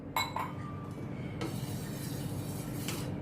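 Water poured from a glass into a pot while making Sindhi kadhi: a couple of light glass clinks first, then a steady, soft rush of pouring liquid, fairly faint and close.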